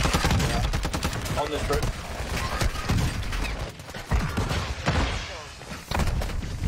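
Rapid, dense gunfire in a battlefield video game crackles almost nonstop, loud and close, with sharp bursts and heavy thuds layered under someone talking.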